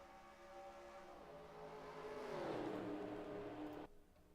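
Engines of NASCAR race cars at Daytona International Speedway in the NASCAR Racing 2003 video game, a rising roar as a pack of cars passes nearby, swelling in pitch and volume, then cutting off abruptly.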